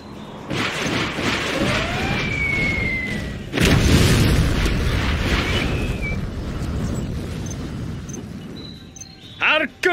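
Artillery bombardment in the Command & Conquer: Generals video game, with a heavy explosion midway and dense rumbling blasts before and after. Speech and radio chatter run under the barrage, and a few sharp bursts come near the end.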